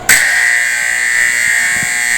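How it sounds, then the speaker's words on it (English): A loud, harsh electronic gym scoreboard buzzer in an old school gym sounds abruptly and holds a steady, piercing tone for about two seconds. "the scoreboard still works, and even the buzzer"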